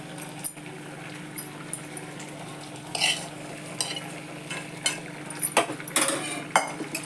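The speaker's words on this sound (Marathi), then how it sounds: "हे पनीर घालते मी आता ह्यात" Paneer stirred into cooking spinach in a pan for palak paneer, a low sizzle under scattered spoon scrapes and soft metallic clinks that grow busier toward the end, with no voices.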